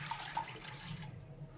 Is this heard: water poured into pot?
yes